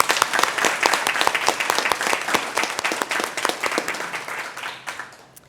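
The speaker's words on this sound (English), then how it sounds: "Can we give them all a round of applause again one more time?" An audience at a human rights awards breakfast applauds steadily, a dense patter of many hands clapping at moderate volume that thins out and fades at the end.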